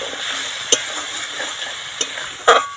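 Spiced water splashes into a pan of frying potato and cauliflower, a steady close sizzle broken by a few sharp clatters of stirring, with a louder burst of hiss near the end.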